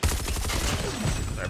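Rapid automatic fire from an ASM10 rifle in a video game, a dense, continuous stream of shots running loud and unbroken through the whole moment.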